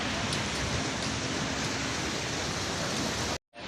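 Steady rain hissing outdoors, a soft, even wash of drops that continues unbroken before cutting off abruptly near the end.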